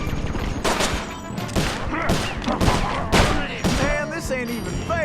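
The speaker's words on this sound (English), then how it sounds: "Looks like you're gonna have to shoot your way out" Rapid bursts of gunfire in Sly Cooper: Thieves in Time, a string of sharp, loud shots in quick volleys with whooshing and impact noises between them, up close and without talk.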